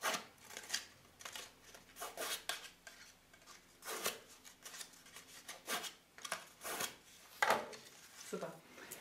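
A bone folder rubbed along the creased edges of a paper bonbon box, giving soft repeated scraping and rubbing strokes, quiet and close, with a voice speaking between them.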